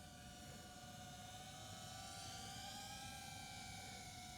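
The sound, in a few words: quadcopter drone hovering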